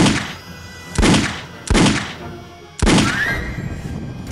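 Gunshots fired at approaching tennis balls, four loud sharp reports spaced about a second apart, each followed by a brief decaying tail, with no other sound between them.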